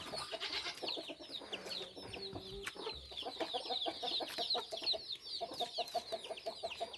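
Many chickens cluck and chatter together in a busy, continuous flock, with sharp calls overlapping throughout at moderate distance.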